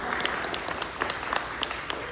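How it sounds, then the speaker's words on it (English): Audience at an author talk claps, a dense roomful of hands with scattered sharper claps popping out, steady and moderately loud for a couple of seconds. "and you have to clap now"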